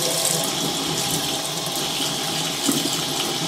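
Hot water runs steadily from a sink tap into a basin, a continuous close hiss and splash with no talk.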